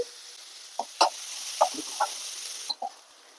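Finely chopped onion and tomato sautéing in a pan, a faint background sizzle with several short scraping and stirring knocks spaced irregularly, no voices.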